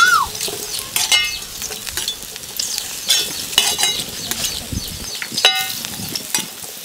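Ridge gourd and green chilies roasting dry in a pan, with light crackling sizzle, scraping stirs and occasional utensil clinks against the pan throughout.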